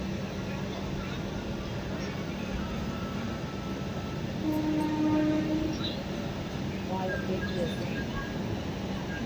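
Steady rumble of a train running on the rails, a broad continuous roar with a short tonal hum swelling midway, moderately loud throughout, with a voice faintly talking underneath.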